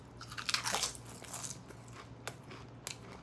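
Close, crisp crunching bites into stale Hwa Yuan potato chips from Taiwan, in Royal Cream and Spicy Omelette flavours, with a burst of crackly chewing followed by a couple of sharper snaps, quiet overall and no talking.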